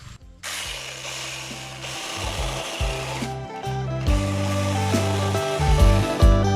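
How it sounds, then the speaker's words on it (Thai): A hand saw rasps through a rambutan tree branch in repeated back-and-forth strokes, close and steady, with a rough grinding tone. "ผมจะใช้เลื่อยอันนี้นะครับ ในการตัดนะ"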